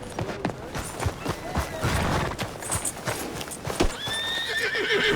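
Horses in Red Dead Redemption 2 clip-clop along at a trot, hooves thudding unevenly, with a neigh or whinny and a voice speaking briefly over the hoofbeats.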